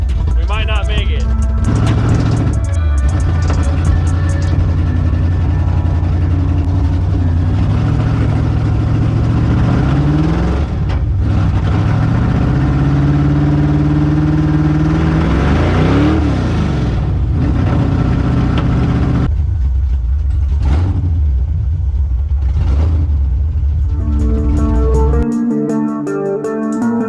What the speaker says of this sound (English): see how it sounds with the new exhaust on it